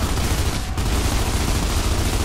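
Dense, continuous gunfire from Gears of War 2 gameplay, a loud unbroken wash of rapid shots and blasts with a brief dip partway through, no voices.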